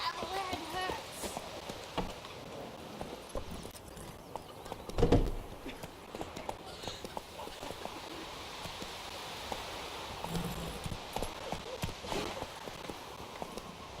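Roach, a horse in The Witcher 3, moves at speed with a fast, steady clip-clop of hooves. A voice talks over the hoofbeats, and a louder thump comes partway through.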